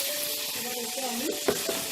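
Chopped fenugreek leaves go into a well-cooked masala for methi chicken, giving a steady close sizzle, then a brief stirring scrape and clatter near the end.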